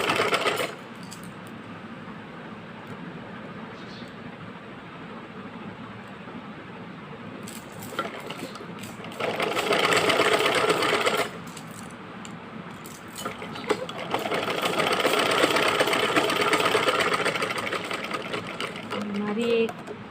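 Fabric for a kachli is stitched on a sewing machine that whirs in two loud bursts between quieter handling, with a person talking through much of it.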